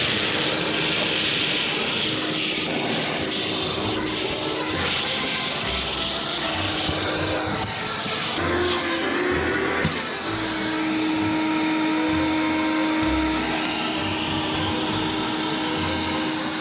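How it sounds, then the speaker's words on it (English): A vacuum cleaner runs steadily and loudly throughout, sucking up thousands of rodent droppings, with a constant hissing roar and a sustained motor whine that shifts pitch slightly partway through. "We're gonna go ahead and vacuum these thousands and thousands of rodent droppings out of here."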